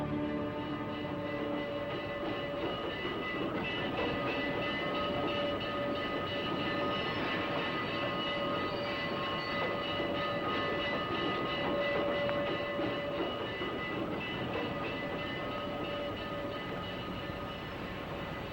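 A passing train rumbles steadily and loudly for the whole stretch, with a constant roar of rail cars and faint tonal squeals or whistle-like hums running through it, with no talk over it.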